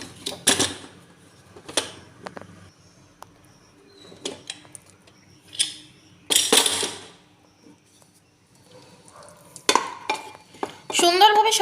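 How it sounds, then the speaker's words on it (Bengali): A home kitchen pressure cooker, used for rice and paneer, gets its metal lid worked open: scattered clinks, clanks and scrapes in short bursts with quiet gaps, busier near the end. "এবার আমি প্রেসার কুকারের ঢাকনাটা খুলে নেব"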